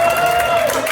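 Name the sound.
audience applause for eliminated contestant Sloan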